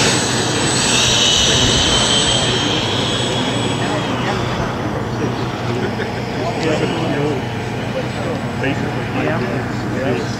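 A giant-scale electric ducted fan model jet, a 747 running on 6S batteries, taxies with a loud, steady fan whine and roar that fills the whole clip, with people talking over it outdoors.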